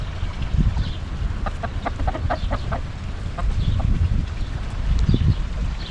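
On a farm in central Portugal, a rooster and soaked chickens cluck in short repeated bursts through a heavy summer rainstorm, their calls close and steady over a loud, constant wash of rain with no talk.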